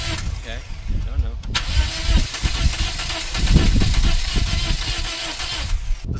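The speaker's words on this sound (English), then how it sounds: "let's see if this Corolla will fire up" A Toyota Corolla engine cranks with the starter whirring but never catches, a rough, loud, close churning that goes on for several seconds while a person talks over it.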